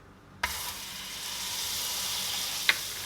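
Butter melting in a hot pot while cooking Guyanese black-eyed bean cake, a steady broadband sizzle that starts abruptly with a soft thump and continues alone, with a brief clink near the end.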